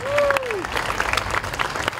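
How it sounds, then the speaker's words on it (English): Crowd applause at an outdoor LGBTQ+ Pride celebration in Manchester, a dense wash of clapping sustained across the moment, with a brief whistle sliding down near the start and voices mixed in. "So I'd like to give them a round of applause"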